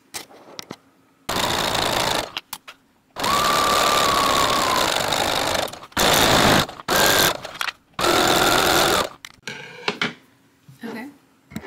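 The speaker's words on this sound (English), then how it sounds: "we're gonna sew it once along the pins" A sewing machine stitches fabric along a pinned seam for a two-piece outfit, running in several loud, close bursts of rapid mechanical whirring separated by short pauses.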